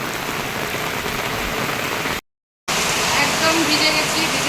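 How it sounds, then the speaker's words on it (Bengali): Steady rain falls near a river where a riverside puja has just been held, making a dense, continuous hiss. It cuts out for a moment, then resumes just as strongly. "সেই বৃষ্টি হচ্ছে"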